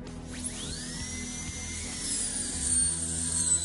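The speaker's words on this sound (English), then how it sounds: "I am going to cut a high quality HDX German steel plier with a cut diamond burr" A high-speed dental handpiece fitted with a diamond burr whines steadily as it cuts into an HDX German steel plier, with a rising pitch at the start and a gritty grinding rasp beneath, close and continuous.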